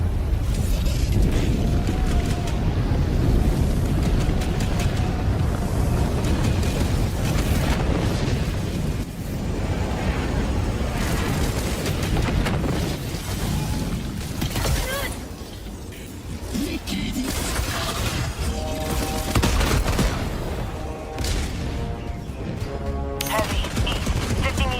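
Heavy APC tank combat in Helldivers 2, a constant grinding mechanical rumble mixed with bursts of gunfire and explosions throughout, loud and busy, with voices coming through at times.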